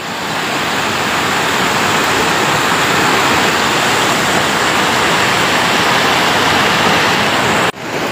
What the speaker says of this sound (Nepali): यहाँ माथिबाट आएको पानी रहेछ यो चाहिँ है।